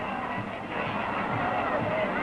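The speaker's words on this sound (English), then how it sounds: "listen to the kids in the crowd here" Crowd of invited children at the Disneyland opening day parade, a steady dense babble of young voices cheering and chattering throughout, fairly loud and continuous with no distinct pauses.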